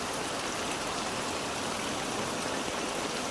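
Heavy rain and rushing floodwater in the mountains make a steady, dense wash of noise that holds even, with no breaks or voices, throughout the short stretch.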